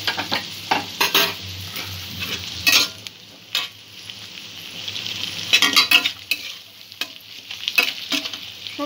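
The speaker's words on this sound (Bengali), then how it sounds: "সবজিগুলো নরম হয়ে আসা পর্যন্ত একটু ভেজে নেব।" Vegetables for street-style egg chowmein frying in a pan with salt, a loud, crackling sizzle punctuated by repeated clanks and scrapes of stirring, close up and uninterrupted by speech.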